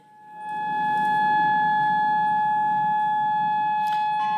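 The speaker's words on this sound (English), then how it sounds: "Well, Malin, in the background, you can hear that ear-piercing siren, and it is the all clear here in Amman" An ear-piercing civil defense all-clear siren wails in Amman, holding a steady, sustained piercing tone that fades in and then stays loud and continuous, with no voices.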